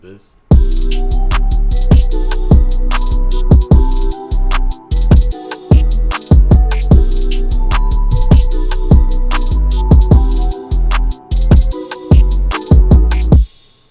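A loud, punchy hip hop beat with heavy bass and sharp drum hits, layered with a bell melody over a sustained synth pad.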